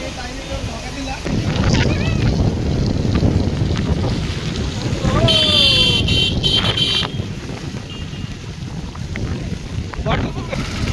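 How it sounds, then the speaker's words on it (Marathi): Heavy rain and gusting wind sweep over a mountain road near a temple, battering the microphone under a steady roar while a person talks over it. "पूर्णपणे पाऊस, धुक आणि वारा, फुल पाऊस आहे मित्रांनो इकडे."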